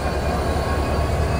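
A 63-series broad-gauge EMD diesel-electric locomotive is coupled to a train's coaches, giving a steady, close rumble of idling engine and rail noise with no talk.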